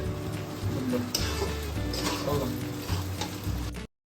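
Food frying in a pan while being stirred at a home midnight cooking session, a steady sizzle with scraping and clinks from the spatula, close and fairly loud, ending abruptly in silence.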